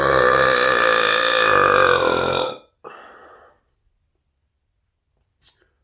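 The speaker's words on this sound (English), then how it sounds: "these burps" A long, loud, drawn-out burp lasting over two seconds, followed by a brief second belch, then silence with a faint click near the end.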